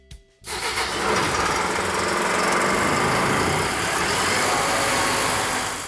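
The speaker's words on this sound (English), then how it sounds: "now you're just gonna engage the starter and start the unit" A wet blast system unit in a shop building a 1970 Challenger R/T is started: a brief low mechanical hum, then a sudden surge into a loud, steady, harsh roar that holds for several seconds.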